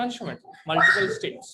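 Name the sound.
dog whimpering and barking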